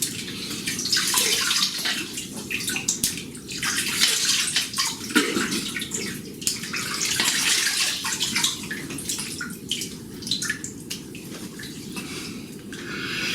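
Running water splashes continuously, with changing gushes and swishes as a shaving razor is rinsed under it, close by and fairly quiet, with no talking.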